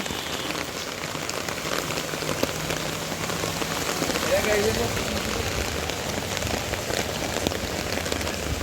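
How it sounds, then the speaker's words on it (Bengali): Heavy rain pours steadily on a street, a dense continuous hiss of drops hitting the ground nearby, with faint indistinct sounds beneath it. "আজকে ভীষণ বৃষ্টি"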